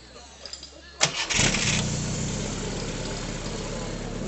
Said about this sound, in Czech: Takže stroj můžeme nastartovat.